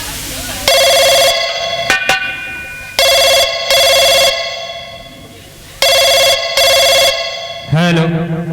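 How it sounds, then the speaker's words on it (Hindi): Loud, close telephone rings in a Hindi folk theatre performance, electronic tone bursts repeating in pairs with short gaps between them, alone without talk until a brief different sound at the end. "हम बंदूक थाम इंस्पेक्टर लोहा को फोन करके अपनी हवेली पे बुलाते हैं।"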